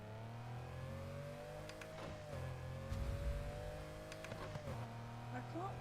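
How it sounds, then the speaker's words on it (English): A Lamborghini engine in the racing game NFS Heat, played with a wheel, pedals and manual gear shifter, holds a steady low drone that climbs gradually as it revs, with gear-change blips and a voice talking over it throughout. "this Lambo sounds ace"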